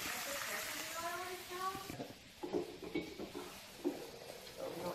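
Tofu browning in a pan while ramen is cooked, with a soft sizzle and stirring scrapes, faint utensil clicks and pan knocks; an early tonal whine fades before the clattery stirring takes over.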